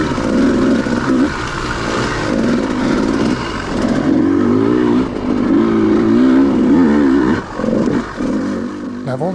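A Beta XTrainer 200 two-stroke dirt bike engine revs hard on a trail, loud and close, its pitch rising and falling with throttle blips through most of the stretch, briefly dipping near the end.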